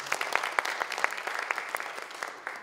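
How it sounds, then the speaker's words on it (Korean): A room full of people clapping, a steady patter of applause at moderate loudness with some sharper individual claps standing out. "60기 이지호 소속 회장님께 큰 박수 부탁드리겠습니다."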